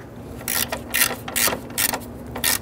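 A ratchet tightens a radiator cooling fan mounting bolt on a 1994-2004 Ford Mustang, giving repeated bursts of sharp close clicking in an even rhythm over a low hum.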